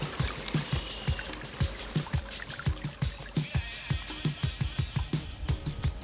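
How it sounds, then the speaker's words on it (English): Water running steadily through a brook flowage near a beaver pond, a continuous rushing wash with rhythmic gurgles and splashes, close and alone without talk. "You can hear the water running."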